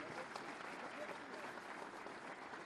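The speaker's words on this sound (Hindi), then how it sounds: "मैं चाहूंगी तालियों के प्रणाम आप उन तक पहुंचाएं" An audience at an official appointment-letter ceremony applauds in a steady, distant wash of clapping, faint and even throughout.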